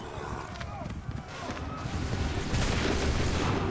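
A musket volley fired on command in Assassin's Creed 3, heard as a dense burst of gunfire amid continuous battlefield noise, with commotion swelling louder in the second half.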